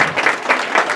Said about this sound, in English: give Ashley a round of applause